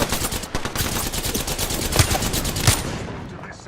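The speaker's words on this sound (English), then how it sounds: "Getting shot at." Rapid gunfire rattles in Apex Legends, a dense, continuous stream of close shots with a couple of heavier cracks standing out near the end.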